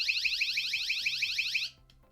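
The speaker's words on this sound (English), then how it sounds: "It's an alarm for emergency situations" An emergency alarm built into an EDC flashlight sounds a shrill, rapidly warbling siren close up, pulsing about four times a second for under two seconds before cutting off abruptly.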